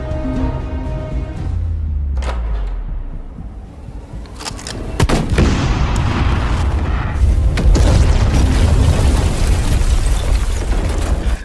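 A heavy boom as a gasoline barrel explodes, then a loud, sustained roaring blast with rumbling debris that continues to the end.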